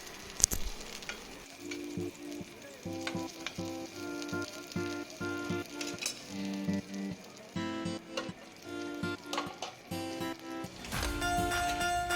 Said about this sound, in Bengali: তো দেখো পটলগুলো আমার লাল লাল করে প্রায় ভাজা হয়ে গেছে।